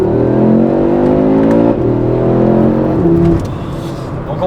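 Audi RS3 8Y engine running in drift mode on a road, a loud close continuous drone with rising then dropping revs and small gear-like steps, no talking.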